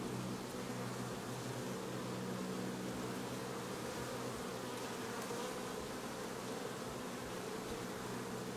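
Honeybees from a rescued colony hum around an opened hive, a continuous dense buzz at low level with no talking.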